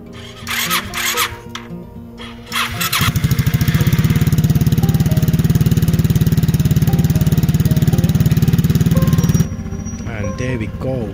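An old motorcycle engine turns over, catches after a few seconds and settles into a loud, steady running chug. It then drops back to a lower idle, with a person talking before and after it starts.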